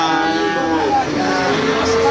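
A dairy cow lows at a cattle market in a single long, loud moo close by, set against a noisy market background.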